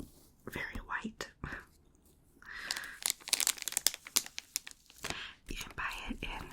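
A ream of HP Premium Choice LaserJet paper is handled at close range: crisp crinkling, rustling and soft tearing-like crackles in irregular bursts, with whispering heard around them.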